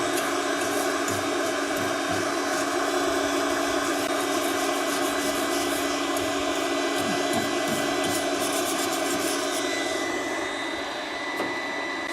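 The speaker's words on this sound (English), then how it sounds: "wire brush it" A power tool drives a wire brush across still-hot metal, a steady loud broadband whir that holds continuously for the whole stretch, close by and with no one speaking.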